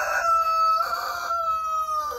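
A rooster crows loud and close, giving a drawn-out, tonal cock-a-doodle-doo with a rising-and-falling pitch. It is heard alone with no talking.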